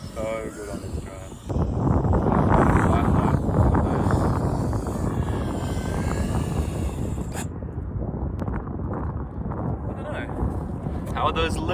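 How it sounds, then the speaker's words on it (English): A 5-inch FPV freestyle drone's motors whine and roar loudly and close, surging through a flight amid wind buffeting, with a brief lull near the end. "The motor sounds so good on this drone."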